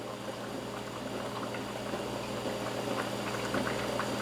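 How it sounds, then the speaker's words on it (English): A pot of water at a rolling boil on a stove for Cajun jambalaya, a constant dense bubbling and churning hiss that stays even and close throughout, with no voices. "It's a rolling boil."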